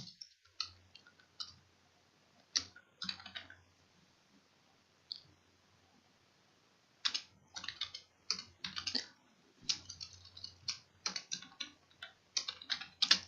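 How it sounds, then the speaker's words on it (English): Typing on a computer keyboard, soft clicking keystrokes in scattered bursts with pauses between them, close and fairly quiet in an otherwise silent room. "Let me type here."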